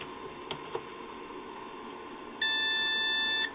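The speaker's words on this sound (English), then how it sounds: "I'm gonna go ahead and show you my continuity test." A continuity tester on a bench power supply setup sounds one loud, steady high-pitched beep lasting about a second after near silence with a couple of faint clicks.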